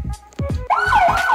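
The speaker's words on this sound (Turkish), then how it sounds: "Ya bu siren. Polis sirenine bastın." A toy police siren from a remote control wails in a rising and falling electronic tone, loud and close indoors, after a few short beeps.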